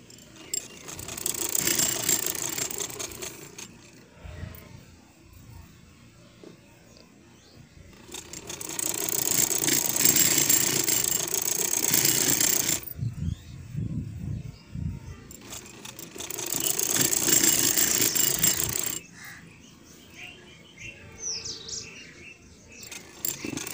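A sewing machine stitches along a back neckline of a garment, whirring in three sustained bursts separated by short quieter pauses, close and fairly loud with no talking.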